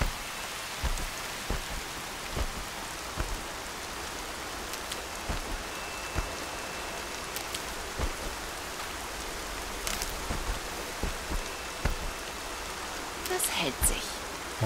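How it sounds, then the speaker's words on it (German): Steady rain in the video game Horizon Zero Dawn hisses continuously with scattered drips and taps, a soft, even wash of noise heard up close. "Boah, dieser Regen."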